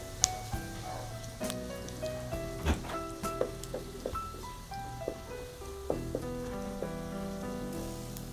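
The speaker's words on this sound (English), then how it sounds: "So I have melted the ghee and I'm going to put in my cumin seeds. We just want to fry up the cumin seeds for about a minute or so." Cumin seeds fry in melted ghee with a faint, continuous sizzle and crackle, joined by scattered light clinks and taps, without any talking.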